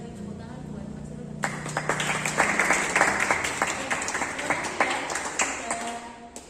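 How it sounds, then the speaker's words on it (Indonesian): A classroom group applauds a student in a warm, steady round of clapping that starts abruptly after a voice and keeps going, moderately loud and close. "Kita beri tepuk tangan buat Mas Irul"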